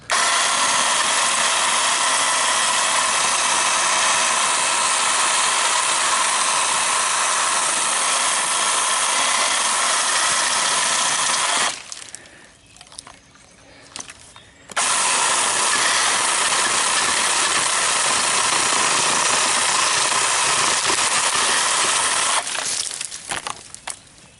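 A small Ryobi 18V battery-powered 10-inch chainsaw, used one-handed, whines loudly and steadily as it cuts wood, stops for a few seconds, then revs again and cuts.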